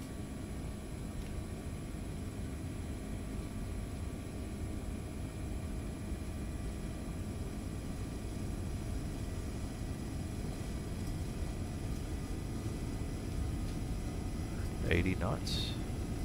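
A Boeing 767-300ER takes off in the X-Plane 12 flight simulator with a steady, broad jet engine roar throughout the run, while someone talks over it.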